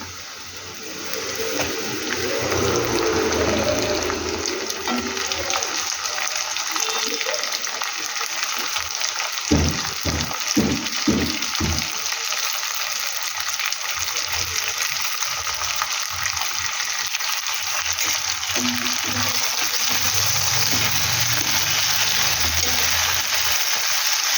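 Food fries in a pan before tomatoes go in, a steady, loud sizzling hiss lasting throughout, with a person speaking now and then over it.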